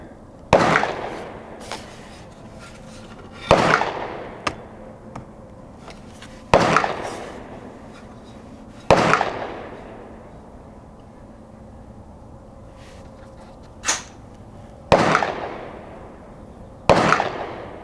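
Rifle shots from a Winchester fired at targets ring out one at a time, about seven sharp cracks spaced a few seconds apart, each trailing off in a short echo against quiet outdoor background.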